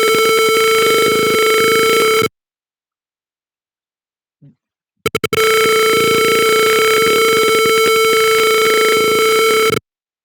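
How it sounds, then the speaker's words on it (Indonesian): A loud, steady electronic alarm tone from a water level sensor blares continuously, cuts out for a few seconds of silence, then resumes just as loud. "di situ alarm akan berbunyi dan juga lampu merah akan menyala"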